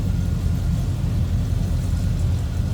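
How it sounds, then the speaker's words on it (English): A 1983 Chevrolet Silverado K10 4x4 with a small block Chevy engine idles with a steady, loud, low rumble, close by and unbroken, with no talking. "a little rumble coming out of that small block Chev"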